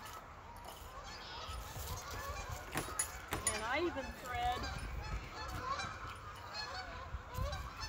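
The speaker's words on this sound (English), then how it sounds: "hear the Canadian geese" Canada geese honk repeatedly at a moderate distance, their calls overlapping irregularly, while a person speaks briefly over faint outdoor background noise.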